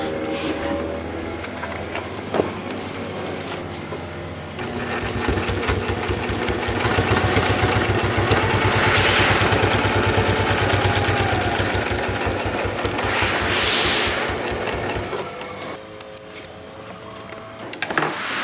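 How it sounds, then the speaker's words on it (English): A sewing machine stitching a UV sacrificial strip onto a sailboat genoa or jib, running in a steady rapid clatter for roughly ten seconds with a mechanical hum before and after, loud and close. "And we'll just go ahead and sew that under."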